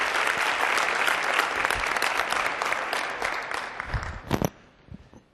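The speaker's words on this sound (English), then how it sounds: "So let's give Paul another round of applause for his willingness to do that." Dense audience applause at a conference closing plenary in Las Vegas, loud and sustained for about four seconds and then dying away, with almost no talk.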